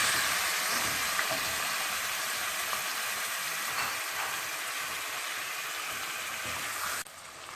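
Chicken pieces sizzle steadily in hot oil with garlic and ginger in a pan, a loud, even frying hiss that continues without pause.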